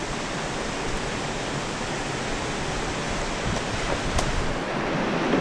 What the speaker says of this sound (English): this will be my first river crossing, like a proper one